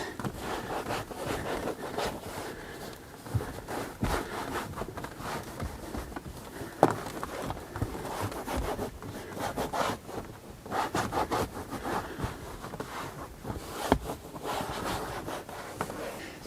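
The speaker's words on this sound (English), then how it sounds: "Just rub down and make sure you're getting down all the deep grooves." Damp detailing cloth rubbing over a BMW leather seat and into its deep grooves, repeated close, rhythmic scrubbing and squeaking strokes that continue steadily without speech.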